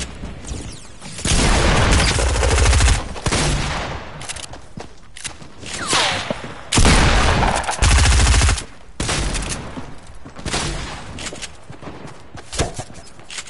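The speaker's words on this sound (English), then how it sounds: "Where am I getting shot from?" Gunfire in a video game comes in loud, sustained bursts of rapid automatic shots, broken by shorter gaps of quieter single cracks and movement, close and dominating the scene.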